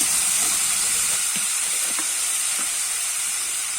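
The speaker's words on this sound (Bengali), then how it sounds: "আমি একটু নাড়াচাড়া করে নেব কষে নিয়েছি" Fish curry of rui fish with bottle gourd sizzles steadily in a pan as salt and turmeric go in and it is stirred, a continuous close hiss with faint scraping under it and no talk.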